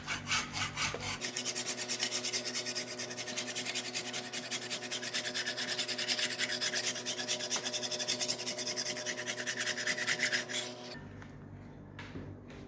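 A metal scraper strips coating softened by soaking in water, giving a steady rasping, scratching scrape that runs continuously for about ten seconds, close and fairly loud, then stops with faint room noise after.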